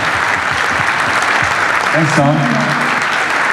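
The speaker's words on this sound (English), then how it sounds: "giving the loudest applause of the day for some of your leaders in Bitcoin at the government level" An audience at a Bitcoin forum applauds loudly and continuously, the clapping filling the whole stretch while someone speaks briefly over it.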